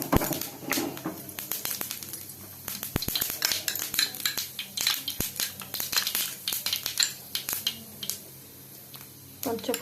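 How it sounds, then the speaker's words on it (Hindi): Panch phoron, a five-spice mix, crackles and spatters in hot mustard oil in a kadai, giving a steady busy sizzle with sharp pops and clinks from a stirring utensil. "कड़ाई रे सोरिष तेल को गरम करिबा। एबे पंच फुटण को फुटाइबा।"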